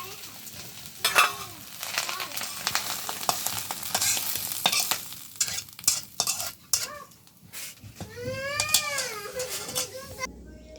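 Loitka shutki (dried Bombay duck) cooking with ash gourd leaves in a pan, a spoon stirring and scraping amid steady sizzling frying, with brief pauses; a voice speaks in between and a cat meows near the end.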